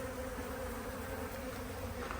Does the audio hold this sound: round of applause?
no